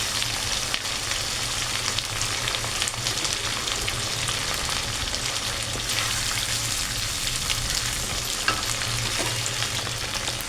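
Pieces of elephant foot yam fry steadily in a pan, giving a continuous close sizzle with light stirring scrapes throughout and no voices.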